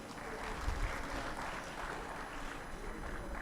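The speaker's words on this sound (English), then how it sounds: "a big round of applause." Audience at a medical conference oration gives a round of applause, a soft, distant, steady patter of many hands that stays fairly even throughout.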